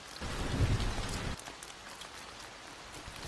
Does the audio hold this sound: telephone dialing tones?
no